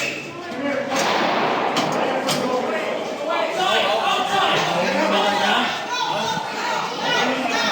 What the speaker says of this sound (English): a bunch of gunshots.